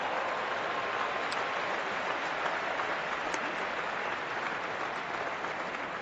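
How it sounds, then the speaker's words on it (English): A cricket crowd in a stadium applauds and cheers during a Test match, a broad, steady wash of distant clapping and murmur that holds evenly throughout. "They cheer for anything, this crowd, though."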